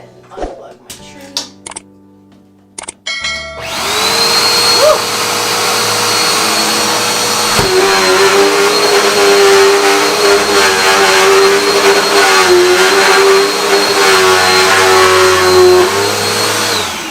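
A Dirt Devil Endura Lite upright bagless vacuum cleaner starts after a few clicks and handling noises, then runs with a loud, steady motor whine and airflow roar, close to the microphone, with some short voice sounds early on.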